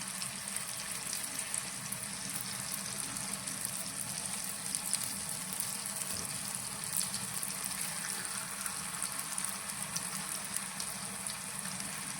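Jalebi batter fries in hot oil over a medium gas flame, a soft, even bubbling hiss that carries on steadily without pause.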